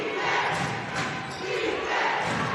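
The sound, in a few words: basketball crowd defense chant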